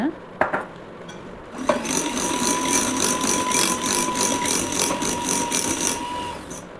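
Brownie batter of melted chocolate and butter whisked in a bowl: a short knock or two, then a steady close scratchy whisking that runs evenly for several seconds before easing off.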